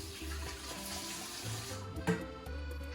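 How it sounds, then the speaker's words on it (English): Tap water runs steadily into a kitchen sink while hands are rinsed under it, a continuous close splashing flow with a brief louder splash near the end, no talking. "rinse my hands off"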